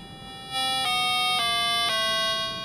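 An electronic tuner-metronome sounds a steady, sustained reference tone for tuning a cello. The pure electronic pitch holds evenly, with faint clicks at intervals, and no one talks over it.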